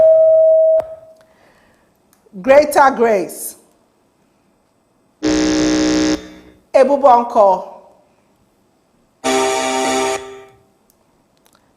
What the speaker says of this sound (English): Let us do a quick buzzer check.